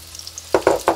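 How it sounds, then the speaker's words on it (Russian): Eggplant pieces dropped into hot vegetable oil in a heated frying pan for an Azerbaijani eggplant chikhirtma, giving three loud bursts of close sizzling after a quiet start. "Сковородка нагрелась, я наливаю растительное масло и выкладываю баклажаны."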